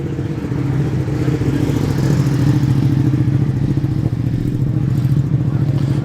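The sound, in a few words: Ducati motorcycle passing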